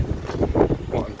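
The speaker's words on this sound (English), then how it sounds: "It's really windy." Gusty wind buffets the microphone with low rumbling bursts, loud and close, with a voice speaking over it.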